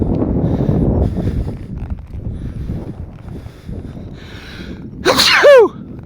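A rider sneezes while sitting on a young colt during its first ride outside the round pen, one loud, close sneeze near the end after rustling and wind noise.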